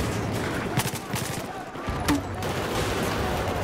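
Rapid gunfire in the Battlefield 4 Operation Locker conquest map, a fusillade of overlapping shots crackling over a constant noisy game backdrop with a few louder bursts.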